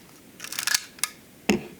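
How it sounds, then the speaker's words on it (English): Leaf shutter of a Minolta Super A camera firing: a quick cluster of light mechanical clicks, then two sharp isolated snaps, close and quiet in a still room. "We can compare it here to the leaf shutter camera Minolta Super A"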